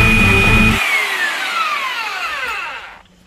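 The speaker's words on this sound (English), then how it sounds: "I am really tempted to take the belt sander to this" A belt sander grinds against a laptop's plastic casing, a loud broadband roar whose whine sweeps steadily downward as the motor winds down over about three seconds, ending in near silence.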